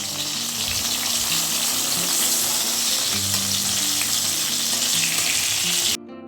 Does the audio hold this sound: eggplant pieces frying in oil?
yes